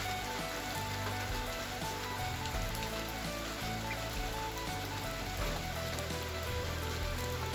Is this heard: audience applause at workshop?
no